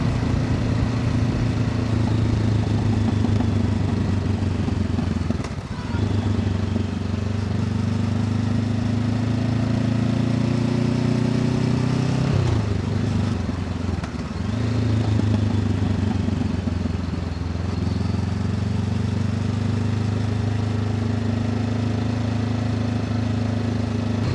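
A motorcycle engine drones continuously and close during a ride, its pitch shifting as the bike changes speed around two gear changes, loud and steady with no talk over it.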